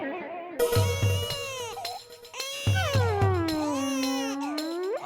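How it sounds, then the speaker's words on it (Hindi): Infant crying in a residential housing society, long drawn-out wailing cries rising and falling over several seconds, loud and close, with rhythmic low percussion beats pulsing underneath. "आवाज तो आ रही है रोने के बच्चे की।"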